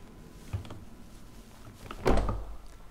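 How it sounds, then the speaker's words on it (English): A 2022 armored Rolls Royce Cullinan's soft-closing door shuts with a dull thunk near the start, then a louder, fuller closing thud with a short settling rumble close by in a quiet space. "Soft closing doors, of course."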